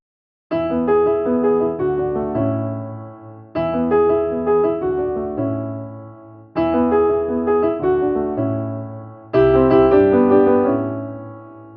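Piano passage of three similar phrases plus a fourth, with the first 16th-note subdivision removed from the first three, each opening on a firm struck attack and decaying notes over a low bass, played solo and clearly.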